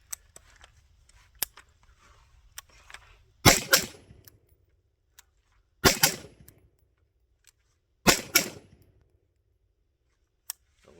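An MK18 short-barreled rifle fired unsuppressed: three loud, sharp shots spaced a couple of seconds apart, each with a short ringing tail, with small clicks and handling sounds between them.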